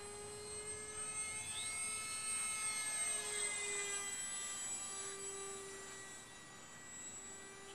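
A Tech One Neptune RC flying wing plane makes a flyby, its steady motor whine rising and falling in pitch as it passes, fairly faint and distant, with no talking.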